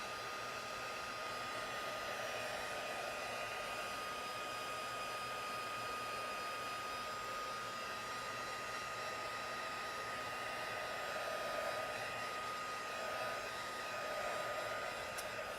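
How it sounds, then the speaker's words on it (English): A heat tool blows continuously to dry ink on a card, a steady, even whirring hiss like a hair dryer that holds for the whole stretch without a break. "you can use your heat tool to speed up the drying process."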